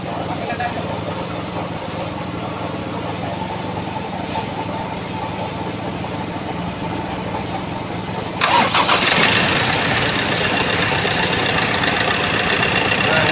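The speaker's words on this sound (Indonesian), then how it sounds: "Kita coba starter lagi mesinnya." A Ford Ranger T6 pickup engine cranks and catches partway through, then settles into a steady idle that stays loud and close; a voice is heard briefly beforehand.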